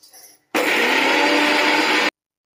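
A kitchen mixer grinder grinds a spice paste for a fenugreek-leaf dish, a loud, steady whirring burst of about a second and a half that cuts off abruptly, preceded by a brief voice.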